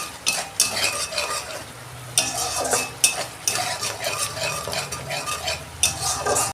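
Katla fish curry masala fries in a pan while a spoon stirs it in repeated bursts, scraping and clinking over a bubbling sizzle, close and fairly loud.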